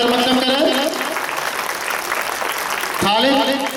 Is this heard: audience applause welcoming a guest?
yes